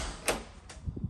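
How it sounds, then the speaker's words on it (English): A small linen closet door opens in a house: a short wooden creak and latch click, followed by a couple of soft thuds, close and fairly quiet in a still room. "Small linen closet by the front door."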